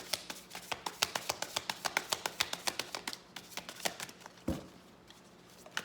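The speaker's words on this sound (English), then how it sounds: "This deck is really hard to shuffle." A deck of tarot cards being shuffled in quick bursts of crisp flicking taps, close and fairly loud, with a short pause and a soft thump near the end; no talking.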